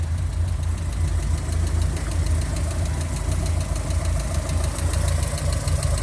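A 1989 Audi 80 E engine idles just after a cold start, with a steady low hum and a fast, even ticking of hydraulic tappets over it. The sound is close and constant, and no one speaks.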